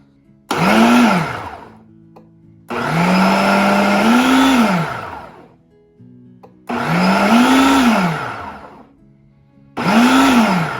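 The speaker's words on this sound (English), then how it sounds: "We're gonna use the chop control. We'll put it on high, and then we're just gonna get this nice and pureed, okay?" A Ninja Foodi blender on high chop setting purees roasted salsa in four loud pulses, each motor burst rising and falling in pitch with short quiet gaps between.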